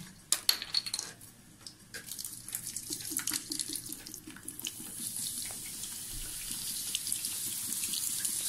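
Vinegar poured into a burnt pot holding baking soda, a steady splashing pour that builds into a continuous hissing fizz, close and moderately loud with no talking.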